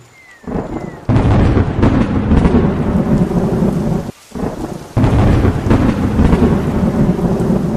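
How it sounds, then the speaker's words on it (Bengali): Loud, booming thunder crashes over heavy rain, rolling in two big bursts with a brief lull between them, close and overwhelming. "বাইরে কর্কর শব্দে ভীষণ বজ্রপাত ঘটল"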